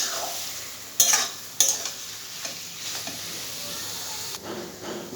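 Taro greens fry in a pan with a constant hiss of sizzling, broken by a couple of sharp spatula scrapes and clinks as the greens are stirred.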